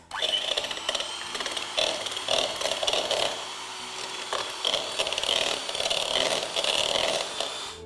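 An electric whisk beats eggs for tiramisu, giving a steady buzzing motor whir that holds fairly loud and close, with slight pulsing changes in pitch throughout.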